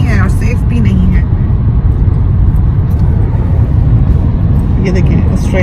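A car driving on a road near the Glass House Mountains in Australia, as heard from inside the cabin: a loud, steady low rumble of engine and road noise, with a person talking over it throughout.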